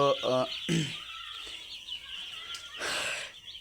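Three-day-old chicks on a poultry farm of about five hundred birds clucking and calling in the shed, a few short squawks and chirps with quiet background noise between them.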